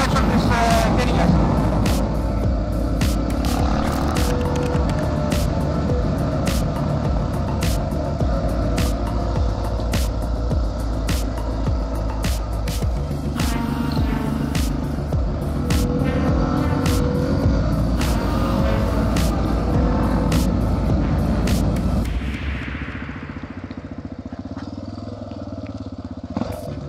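Yamaha TTR250 motorcycle riding along country roads in Thesprotia, engine droning steadily and loud for most of the stretch with wind noise, then dropping off sharply near the end; a rider speaks over it.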